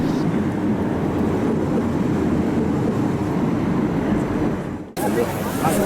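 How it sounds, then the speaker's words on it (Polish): ICE high-speed train pulling out of a station, a steady low rumble and rolling rail noise that holds loud and continuous, with a brief dip before the noise surges back. "Nasz pociąg jedzie dalej."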